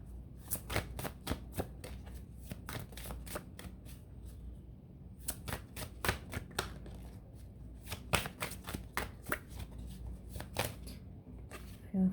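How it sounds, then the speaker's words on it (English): Tarot cards being shuffled in repeated bursts of crisp riffling clicks, close and fairly quiet, with short pauses between rounds and no talking. "Feel free to fast forward past the shuffling because this may take a moment."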